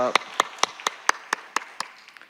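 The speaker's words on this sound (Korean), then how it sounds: "할렐루야 우리 하나님께 영광의 박수 올려드립니다." Sparse, evenly spaced claps from a small church congregation after a Korean prayer service, about nine sharp hits in a steady rhythm, fairly close and moderately loud, with a brief voice at the start.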